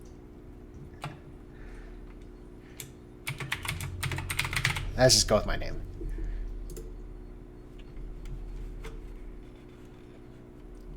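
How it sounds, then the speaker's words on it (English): Rapid typing on a clicky computer keyboard, close and crisp, with bursts of keystrokes building to a dense flurry midway and then tapering, while a person speaks briefly. "This new keyboard I have is like really hackery."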